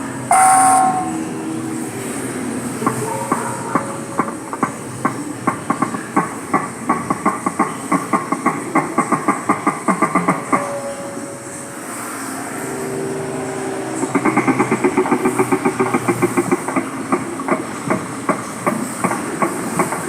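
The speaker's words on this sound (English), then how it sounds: "Walrus sounds." A walrus at SeaWorld San Diego makes loud, rhythmic metallic knocking pulses in two long, rapid runs separated by a brief pause, with steady ambient hiss and no talking.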